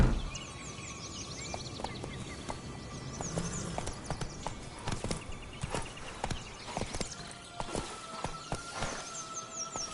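Horse hooves clip-clop at a walking pace in a video game, close and steady, with a brief whinny and birdsong in the background; someone talks to the horse.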